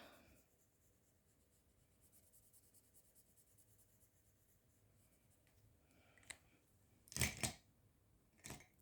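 A quiet room hum with faint scratching, then a few short bursts of pen strokes scribbling on paper near the end.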